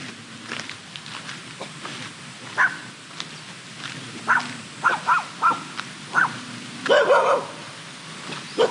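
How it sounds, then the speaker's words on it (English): A pack of dogs barks in scattered, intermittent bursts at moderate distance, with single and doubled barks and some yips spread across the stretch over a steady outdoor background near local shacks in Phuket, Thailand. "Oh, there's a pack of dogs."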